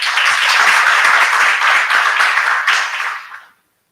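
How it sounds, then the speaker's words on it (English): An audience at a women-in-research dialogue applauds a professor, a loud, dense burst of many people clapping that holds steady for a few seconds and then fades quickly to silence. "let's give Prof. Another round of applause."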